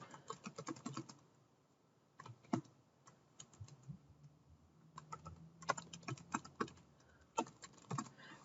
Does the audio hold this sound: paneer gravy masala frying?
no